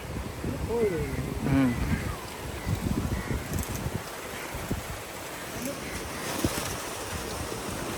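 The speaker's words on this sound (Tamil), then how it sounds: "நல்ல காற்றும் கடலும் அடிக்குது" Strong wind buffets the microphone as sea waves break and wash along a shore, a steady roaring wash with gusty swells and faint voices in the background.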